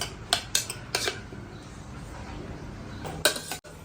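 Tomatoes and turmeric are stirred in a pan with a spoon, giving a few close metallic scrapes and clinks in short bursts over a quiet background hiss.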